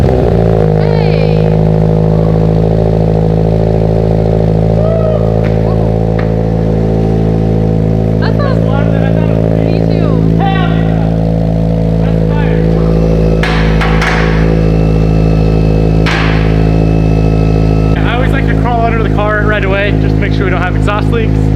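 A 2022 Subaru BRZ idles with a newly fitted exhaust that has small leaks, producing a loud, steady low engine drone close by while people talk over it.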